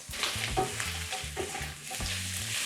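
Onion and carrot fry in a pan with a steady, close sizzle, broken by a few scraping stirs.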